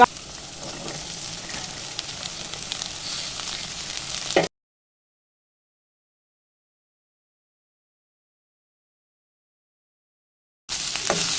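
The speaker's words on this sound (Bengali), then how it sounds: "সোয়াবিনটা দেখুন ফ্রাই করা হয়ে গেছে আমার এবার আমি এর মধ্যে গাজর পেঁয়াজগুলি আর বিনস কাঁচা লঙ্কাটা দিয়ে দেবো" Soybean chunks, carrots, onion, beans and green chili sizzle steadily in a hot pan for chowmein. The frying cuts to silence for several seconds, then the sizzle returns.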